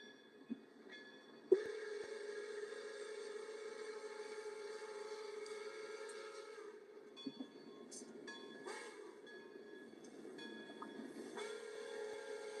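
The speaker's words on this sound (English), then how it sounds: "I think I hear a train, and it might be just backing up a little bit" A distant train sits idling and slowly backing up, its horn or whistle sounding long, sustained tones with a few brief clanks between them. The sound stays faint and even throughout, with no voices.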